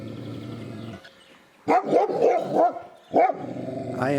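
A dog on a mountain trail at Mt. Olympus, Greece, barks and growls in a few loud, close bursts after a quieter stretch of low rumbling background.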